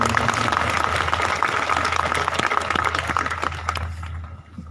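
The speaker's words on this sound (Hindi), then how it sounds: "एक बार कालू भाई के लिए जोरदार तालियां बजा करो" A crowd at a religious jagran night gathering gives loud, sustained applause, a continuous dense clatter of clapping over a low steady hum that carries on for several seconds before thinning out at the end.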